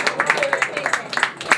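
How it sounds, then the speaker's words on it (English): Audience at a dinner dance in Ballintubber clapping in a quick, steady patter of close hand claps, with voices talking over the applause. "Give him a big round of applause."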